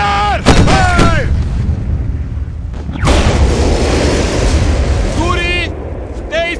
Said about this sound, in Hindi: पहला राउंड तेजी से चलाओ। फायर! फायर!